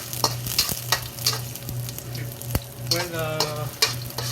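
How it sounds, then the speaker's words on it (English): Green onion whites fry steadily in hot vegetable oil for scrambled eggs with shrimp, a continuous close sizzle broken by sharp clicks and scrapes of stirring. "Then add the green onion, the white part into the oil."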